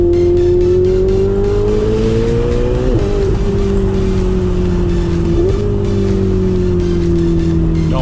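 A Ferrari 488 Spider's exhaust note under acceleration, loud and close with a steady rising engine tone, two brief dips as it shifts gears, and no talking over it.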